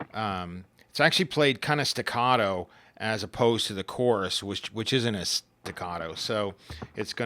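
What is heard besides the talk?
No everyday noise stands out behind the speech.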